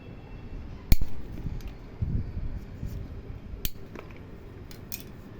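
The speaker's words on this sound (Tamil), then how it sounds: "வாங்க இன்றைக்கி நம்ம செடியில் இருக்க மிர்ச்சியை மிளகாவை கட் பண்ணி எடுத்துக்கலாம்" Scissors snip chili peppers off a garden plant, giving a few sharp, close clicks spaced a few seconds apart over quiet background rustle.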